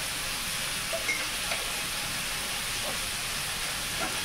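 Ridge gourd frying with fish, turmeric, cumin and chili powder in a pan: an even, continuous sizzling hiss with a few faint scraping stirs.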